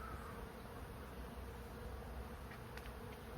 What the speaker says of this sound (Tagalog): naririnig nyo ba yung mga bubuyog?